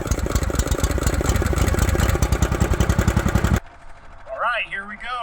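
A snow ski kart engine fires up and runs with a loud, rapid, steady idle for about three and a half seconds, then cuts off, leaving quieter whistly background sounds and a faint voice.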